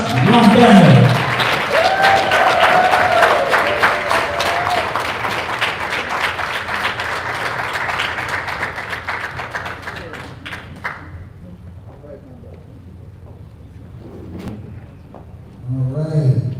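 A convention crowd in Chicago applauds for a professor, starting loud and dense, thinning into scattered claps after about ten seconds, fading to near quiet before a short burst of talk at the end.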